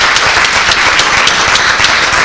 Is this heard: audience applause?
yes